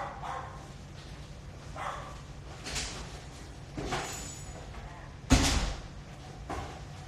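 Dogs barking indoors in a few separate bursts, one loud close bark standing out near the end, with faint talk underneath.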